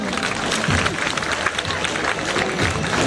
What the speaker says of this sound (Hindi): दिल खोल कर तालियां बजाया करें।